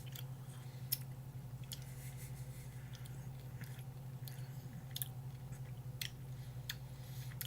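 Candy-coated spearmint gum from an MRE is chewed close up, with soft, crisp crunching clicks at an irregular rhythm over a low steady hum and no talking.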